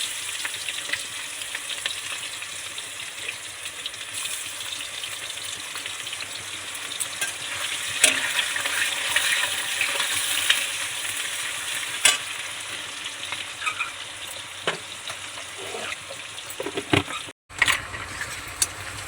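Onions frying with bay leaf and garam masala as the base for biryani: a steady sizzle in the pan with occasional stirring scrapes and clinks, continuing until a brief break near the end.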